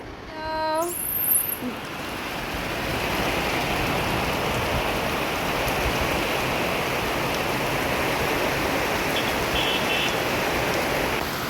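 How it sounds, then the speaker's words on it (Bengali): Rain falls steadily outside in a dense, even wash of drops on surfaces, holding a constant moderate level after a brief higher tone right at the start. "বাহিরে কতটা বৃষ্টি পড়ছে এখনই দেখাই দিচ্ছি"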